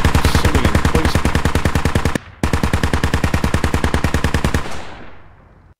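Rapid automatic gunfire from the video game Squad, a loud, close machine-gun burst that pauses briefly, resumes at a steady fast rate for several seconds, then stops and fades in a short echo.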